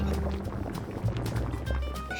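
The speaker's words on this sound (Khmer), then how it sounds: "អូខេទឹកយើងពុះហើយ" Water bubbles and seethes softly in a pot on the stove while tteokbokki is being cooked, a faint, continuous liquid churning heard alone.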